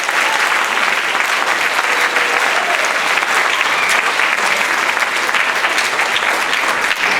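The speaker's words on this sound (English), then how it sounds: "let's give them one more round of applause for both our orchestras." Audience at an elementary school spring concert gives a dense, loud round of applause for the school's string orchestras, continuous clapping filling the hall with no talk over it.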